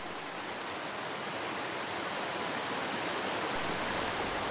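Water rushes steadily down a Schauberger pendular chute, a dense, even hiss of flowing water with no pauses.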